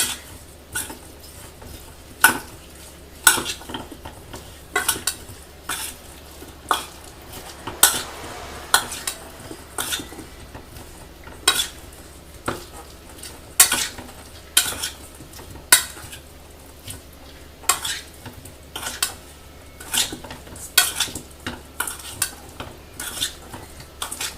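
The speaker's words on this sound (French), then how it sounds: "Et je mélange tout ça." Spoon stirring tomato paste with garlic, basil and sun-dried tomatoes in a pan, repeated scraping taps against the metal in an irregular rhythm, close and moderately loud, with no talk.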